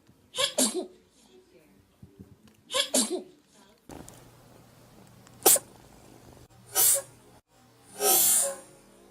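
A cat sneezes several times in quick bursts. Sharp, breathy snorts come near the mic, some in close pairs, separated by quiet gaps and faint background hum.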